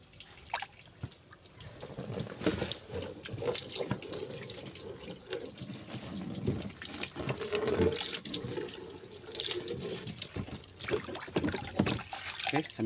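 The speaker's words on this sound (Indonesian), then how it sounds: "sambil lalu kita isi dulu airnya" Tap water running and splashing as it fills a container for a softshell turtle, a steady close gushing with drips and trickling, while a person talks intermittently over it.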